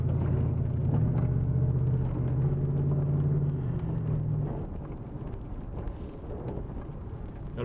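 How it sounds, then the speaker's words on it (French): Car shifted into drive and pulling away, a low engine rumble close inside the cabin that lifts briefly and then settles into a softer steady drone, with no talking. "j'enclenche la position drive et on est parti"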